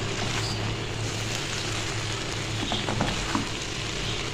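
Two spoons toss restaurant-style Chinese fried rice in a hot pan, a continuous sizzle with soft scraping and clinks from the stirring, moderately loud and steady.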